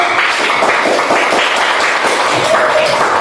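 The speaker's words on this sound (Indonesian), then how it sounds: "Tepuk tangan untuk kita semua dulu" Schoolchildren in a classroom clap their hands together in a lively, continuous round of applause lasting a few seconds, with scattered voices mixed in.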